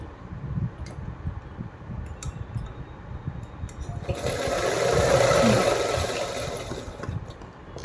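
A sewing machine stitches fabric with a fast, steady mechanical whir and ticking that swells louder in the middle stretch, running close and alone without talk.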